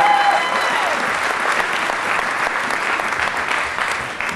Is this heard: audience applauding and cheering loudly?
yes